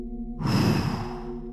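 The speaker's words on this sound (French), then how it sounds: "Inspirez profondément pour vous dynamiser. Soufflez fortement." A deep breath drawn in and pushed out in one strong, audible exhale during a calming relaxation session, close and fairly loud, with no talking over it.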